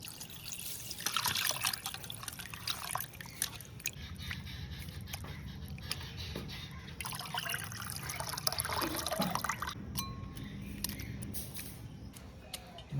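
Water splashes and trickles steadily as freshly cleaned fish are rinsed outdoors in a village kitchen, a continuous close wash of liquid with occasional sharper splashes.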